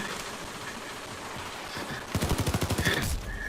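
Rapid bursts of gunfire in the video game PayDay 2, a steady clatter of shots with a faster, louder automatic volley near the end over dense game noise.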